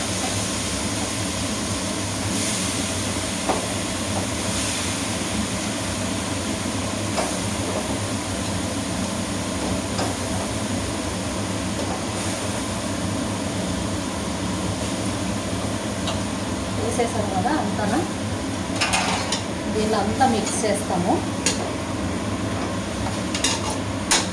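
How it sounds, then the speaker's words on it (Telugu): Grated ash gourd frying in ghee in a pan, with a soft, steady sizzle and occasional light stirring and utensil scrapes throughout, close and quiet with no talking. "దీన్ని తీసి దీంట్లోకి వేస్తాం చూడండి నెయ్యిలోకి వేసేస్తాము వేసి బాగా ఫ్రై చేస్తాము"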